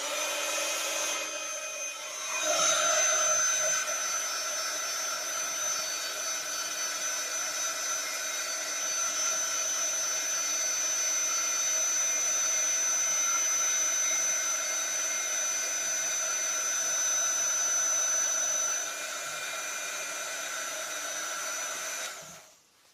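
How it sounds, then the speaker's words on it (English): A heat gun runs continuously for about twenty seconds during a card-making craft project, a close, loud, steady blowing whine with a high tone, starting abruptly and cutting off near the end, with no talk over it. "going to just use the heat gun for a minute now."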